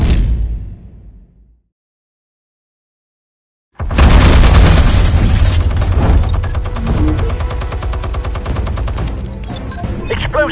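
Explosives go off in the video game Batman The Telltale Series: a decaying rumble, a pause of silence, then a sudden loud burst of sustained blasts and gunfire-like crackle that continues throughout.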